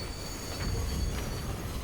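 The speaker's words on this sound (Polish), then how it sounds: "Co za dźwięk? Nie, nie podoba mi się ten dźwięk. A pociąg jedzie!" A train rolling past in the video game Medal of Honor: Allied Assault, a steady rumbling rail noise with faint wheel squeal and clatter, moderately loud and continuous, no talk.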